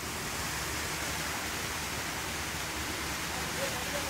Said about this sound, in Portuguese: certamente mais de 30 metros de altura aqui, hein? Queda d'água.